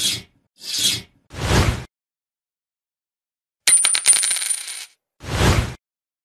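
Small metal coins clink and rattle close up. Several short handling bursts come first, then a bright jingling shower of coins with a high ringing tone, and one more soft shuffle after a pause.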